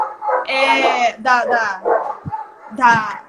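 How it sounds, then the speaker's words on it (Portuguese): Several dogs bark and yip loudly nearby during a livestream, with sharp repeated barks and whimpering yelps, and a person speaks over them. "desculpa os cachorros aí"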